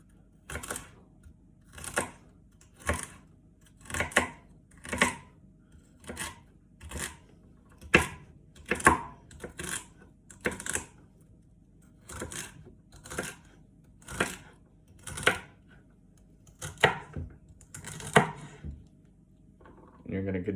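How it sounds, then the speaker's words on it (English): Knife mincing lined-up stalks on a cutting board, sharp close chops in uneven bursts of a few strokes each, repeating steadily with quiet pauses between. "you're going to line them up together and just start mincing."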